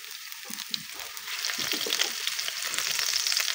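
Onions sizzle steadily in hot cooking oil for sautéed sardines with cabbage, a continuous bright crackle that swells slightly, close up with no talking.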